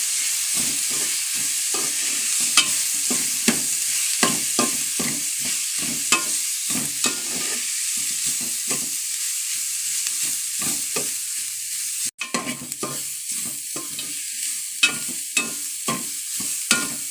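A spoon stirs a spice mixture through sizzling food in a hot pan, giving steady scraping strokes and irregular clatters over a constant frying hiss, with one sharp knock near the end.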